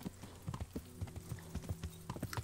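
Horse hooves clip-clop in a steady walking rhythm, close and distinct, in the medieval game Kingdom Come: Deliverance, with low background music beneath.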